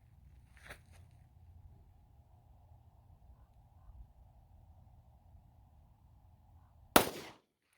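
A single sharp 9mm pistol shot from an S&W SD9VE firing Winchester 147 grain JHP cracks loudly near the end, after a quiet stretch with a faint steady hum and a small click.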